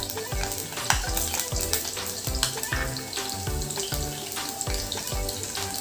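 Green chilli and onion sautéing in a pan, with steady sizzling, rhythmic utensil stirring and scraping clinks, and a broad hiss throughout at close range.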